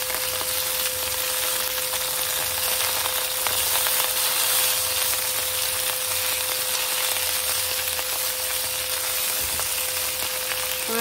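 Chicken for a black pepper stir fry sizzles and fries steadily in a pan as it is turned over, a continuous close hiss with a steady hum beneath and no talking.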